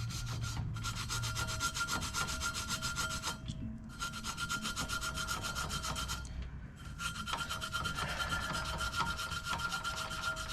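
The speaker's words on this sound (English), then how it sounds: "I'm just going to use emery cloth and just go around, clean it up a little bit." Emery cloth rubs rust off a John Deere 160 tractor wheel rim in long, continuous abrasive strokes, a raspy scratching that pauses briefly twice, fairly quiet and close.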